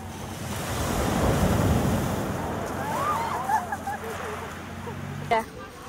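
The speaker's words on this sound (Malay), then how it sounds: "nak tunggu ombak" Ocean waves break on the Hualien coast in Taiwan, a loud roaring crash that swells and then recedes into a softer wash, with wind buffeting the microphone and voices talking over it.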